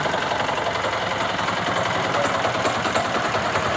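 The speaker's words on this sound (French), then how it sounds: "C'est une machine qui retire l'enveloppe du café." A coffee husking machine that strips the skin from the beans runs with a loud, steady mechanical chatter and rapid rhythmic knocking, close and unbroken throughout.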